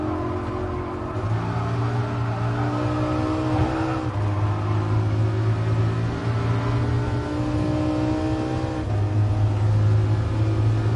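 A Lamborghini Countach races in Gran Turismo Sport with a steady, droning engine note that holds and shifts pitch through the laps. The whirring tone runs continuously with no talk over it.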